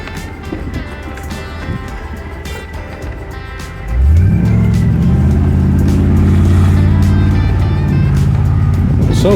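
A Jeep on a trail in the Bighorn Mountains rumbles along at low speed, then the engine swells into a louder, steady drone that holds, with voices talking in the cabin.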